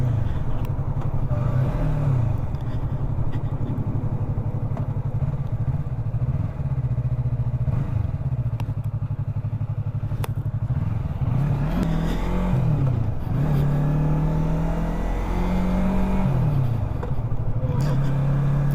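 A motorcycle rides along a road, its engine droning steadily and rising and falling in pitch as it revs, close and loud with wind rush throughout.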